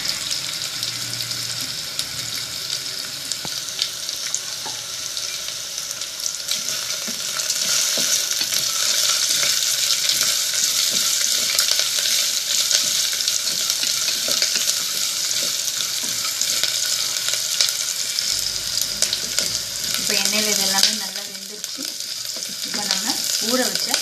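Green chillies and curry leaves sizzle steadily in hot oil in a pan while coconut milk rice is being made, a continuous close frying hiss with a brief stir-like change near the end and no talking.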